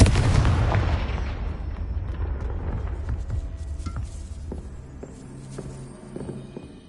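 Confringo blasting spell detonating in a magic-themed video game, a loud booming blast at the start whose rumble slowly fades over several seconds amid scattered game sound effects.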